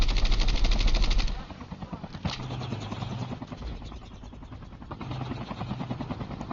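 In Call of Duty Mobile battle royale, a rapid burst of automatic gunfire rattles loudly for about a second, then gives way to a thudding helicopter drone with a few scattered shots.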